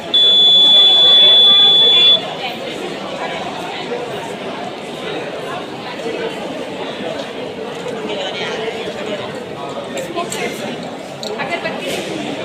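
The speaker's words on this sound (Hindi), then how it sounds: "जैसे ही हम अपने हैंड को लाएंगे तो वो बजर बीप होगा जो कि अल्कोहल को डिटेक्ट करता है।" A buzzer on a school science-fair alcohol detector exhibit sounds a steady, loud tone for about two seconds, then gives way to a busy crowd of voices chattering around the hall.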